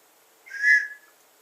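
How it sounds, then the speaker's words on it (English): A single short, bright whistle blast from a whistle carried in a school emergency bag, rising and fading within about half a second against near silence. "Mom will know the sound of that whistle."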